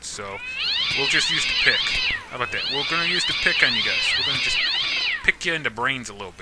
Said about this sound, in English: I'm sorry about the cat noises.